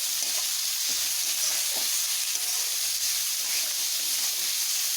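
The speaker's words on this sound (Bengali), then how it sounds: "এখানে আমি একটু নুন দিয়ে নিচ্ছি পেঁয়াজে, যাতে পেঁয়াজটা ভালোভাবে ভাজা হয়।" Chopped onions sizzle in hot oil with a pinch of salt as biryani is started: a steady, fairly soft frying hiss with a few light stirring scrapes, no voices.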